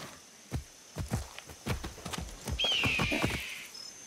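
Horse hooves clip-clop in a steady walking rhythm in the video game Far Cry 6, close and clear, followed by a bright, drawn-out whinny near the end.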